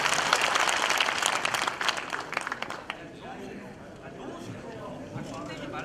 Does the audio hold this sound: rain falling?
no